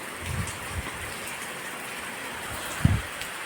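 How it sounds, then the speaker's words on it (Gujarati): Heavy rain pours down at a rural home where livestock is kept, during days of flooding downpour: a steady, fairly quiet hiss of falling water with a couple of soft low thumps. "આ જોઈ લ્યો ફૂલ વરસાદ એટલી વારમાં ચાલુ થઈ ગયો"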